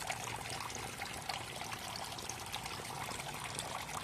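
Water pours steadily from a crayfish tank's filtration system, a continuous close splashing and trickling with no talk over it.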